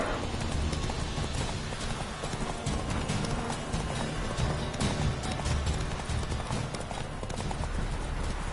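Roach, the horse in The Witcher 3: Wild Hunt, trots with a steady run of clip-clopping hoofbeats. The rhythmic footfalls repeat close by and continue throughout.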